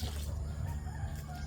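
A Hubbard chicken crows on a backyard farm among livestock, a single faint drawn-out call heard at some distance with low rural background noise and no talking.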